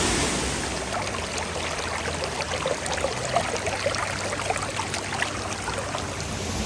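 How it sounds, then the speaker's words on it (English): A waterfall and rocky creek at Flat Lick Falls in Kentucky give off a steady, full rushing flow with a constant broadband hiss, close and unbroken, with no voices. "Both sides of the creek, kind of back in behind the falls."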